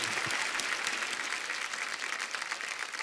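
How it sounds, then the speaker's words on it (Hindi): Studio audience applauding on a TV comedy show, a steady dense wash of clapping that holds at an even level for the full stretch, with no voices on top. "जोरदार तालियां गुलाटी साहब के लिए"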